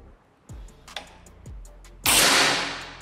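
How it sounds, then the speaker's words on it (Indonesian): A Ghost Warrior Durallium long-range air rifle with a 70 barrel is fired once during a performance test. A few soft ticks and low thumps come first, then one sharp, loud report that fades over the next second. "Oke, langsung aja kita masukkan mimisnya. Tembakan pertama. Oke, sudah meluncur."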